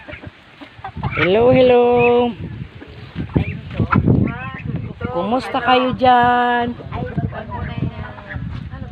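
Native chickens and ducks clucking and calling loudly up close, with bursts of harmonic squawks mixed with a person talking cheerfully over them.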